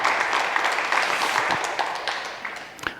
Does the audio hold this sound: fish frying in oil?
no